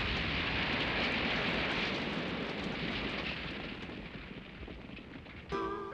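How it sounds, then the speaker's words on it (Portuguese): A huge roaring rumble from the controlled demolition blast of an old building, loud at first and slowly fading away, ending with a brief different sound. "explosões controladas para destruir prédios velhos e, às vezes, inseguros, como este"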